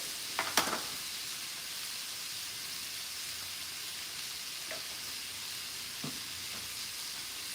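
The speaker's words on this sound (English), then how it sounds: "all you have to do is just saute it" Taco vegetables sauteing in a pan on high heat, a steady bright sizzle with a few soft clinks of stirring, heard up close and alone.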